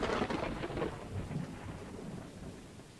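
Rain and thunder in the video game Choo Choo Charles: a steady rain hiss under a deep rumble of thunder that swells at the start and slowly fades, with no voices.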